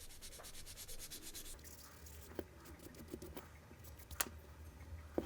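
A 2000-grit sanding stick rubs against a watch case in quick, fine scratchy strokes, close and quiet, with a few small clicks and taps in between.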